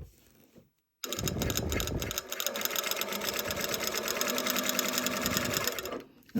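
Sewing machine stitching one side of a lapped zipper: a steady, fast mechanical whir that runs continuously for about five seconds after a brief silence, close and clear, with a short change in pitch partway through.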